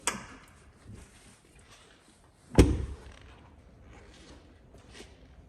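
The sliding side door of a 2025 Ford Transit Custom crew van closes under its soft-close mechanism, with faint sliding and creaks, a single solid thunk, and a brief mechanical whirr as the latch pulls the door shut.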